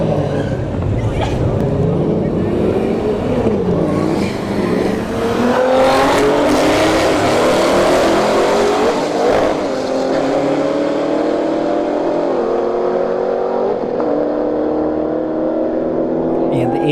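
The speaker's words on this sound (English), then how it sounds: "CL1 Camaro right lane, Cadillac ATS-V in the left lane" Drag race at a motorsports park test-and-tune between a Camaro and a Cadillac ATS-V, engines roaring loudly at wide open throttle with rising, shifting tones, under an announcer's talk throughout.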